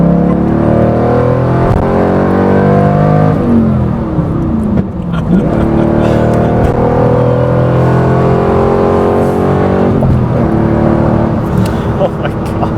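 A 1991 Corvette ZR-1 with its LT5 engine accelerates hard through the gears, a loud sustained roar climbing in pitch with a clear drop at each shift, heard from inside the car.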